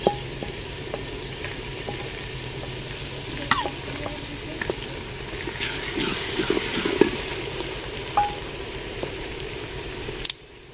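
Steady sizzle of garlic frying in hot ghee in a village kitchen pot, with occasional stirring clinks and scrapes over the continuous hiss, no talking.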